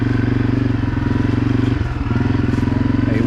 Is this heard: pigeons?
no